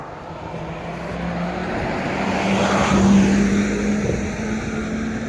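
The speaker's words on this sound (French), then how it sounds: "Il y a un autobus." City bus passing by outdoors, its engine rumble swelling as it approaches, peaking midway and fading away again, loud and close.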